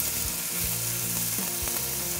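Chicken scallopini sizzles steadily in a hot pan, a loud continuous frying hiss with a few brief bursts of spatter, no voices.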